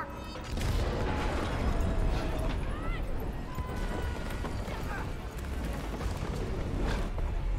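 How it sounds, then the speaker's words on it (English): Explosions and impact blasts in the video game It Takes Two crash in bursts amid a busy, loud game soundscape, with people talking excitedly over the action. "That's a big explosion!"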